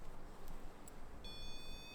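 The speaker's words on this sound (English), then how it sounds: "it'll just change colours and beep." A faint electronic beep tone from a color-changing motion-triggered device at Pennard Castle sounds briefly over steady background noise, a short high bleep held near the end of the moment.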